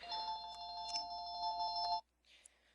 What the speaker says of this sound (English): Oh, that phone.